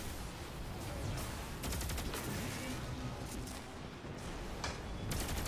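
Gunfire from the video game Destiny 2 rattles continuously in dense, overlapping bursts, with sharper volleys standing out against a constant noisy battle mix.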